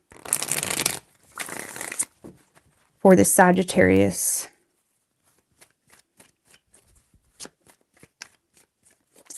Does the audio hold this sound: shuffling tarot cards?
yes